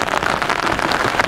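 Light drizzle pattering on a camping tent during a rainy solo night camp, a dense, steady patter of drops close to the fabric with no voices.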